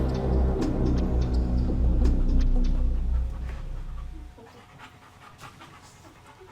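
A puppy pants rapidly and close by in a loud rhythmic huffing that stops partway through, leaving quieter room noise.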